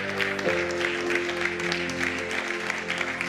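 A church congregation clapping and cheering, a dense steady wash of applause that continues throughout as a sustained organ or keyboard chord fades out early on.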